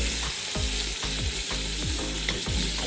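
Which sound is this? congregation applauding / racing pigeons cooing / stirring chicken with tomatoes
stirring chicken with tomatoes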